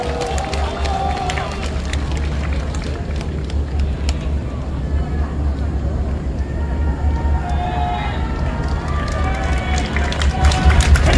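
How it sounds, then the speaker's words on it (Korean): Audience applause and crowd noise at a public event in Korea, welcoming a 25-year-old university student from Daejeon to the stage: a steady wash of clapping and murmur running throughout, fairly loud and close. "여러분, 큰 박수 보내주시기 바랍니다"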